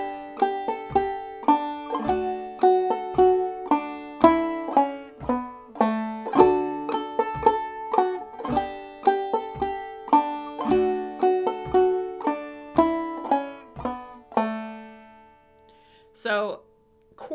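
A stringed instrument plays the A part of the fiddle tune Black Eyed Susie, with picked notes in a bright, bouncy rhythm, close and clear, before a brief pause and a final short phrase.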